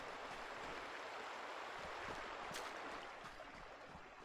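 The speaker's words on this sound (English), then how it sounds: "There's the river sounds." A river flows on a Halo game map, a continuous hissing rush of water that holds steady and eases slightly toward the end, with no voices.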